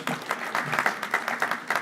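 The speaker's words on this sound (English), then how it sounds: "Round of applause for all the teachers here" A crowd claps briskly and continuously at a school district honors night, a dense patter of applause filling the room.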